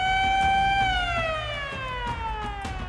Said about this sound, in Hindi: वह सायरन जो शायद कोई भी सेलर अपनी सर्विस में सुनना नहीं चाहता।